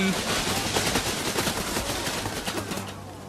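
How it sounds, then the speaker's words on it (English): Massed gunfire of a troop volley in the Total War: Rome II strategy game, a dense crackling burst of many overlapping shots that fills the whole clip and slowly thins toward the end. "Let's try and do a volley. A single volley and see what happens, how much damage we do."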